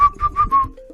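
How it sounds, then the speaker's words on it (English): A person whistles four short, steady notes in a quick rhythm, then a lower closing tone, loud and close. "That was actually me just blowing a whistle, sort of as in whistling"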